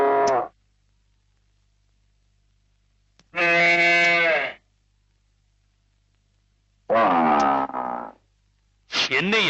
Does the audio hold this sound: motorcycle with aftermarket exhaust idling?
no